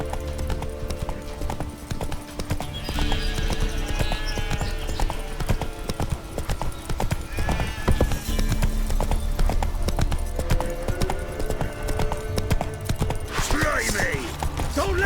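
Steady horse hooves clip-clop at a rhythmic gallop in The Witcher 3, running continuously under game music and ambience, with a brief whinny-like burst near the end.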